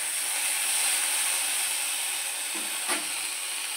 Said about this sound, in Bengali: টমেটোটা দিয়ে আবারও ভালোভাবে ভাজা ভাজা করে নিতে হবে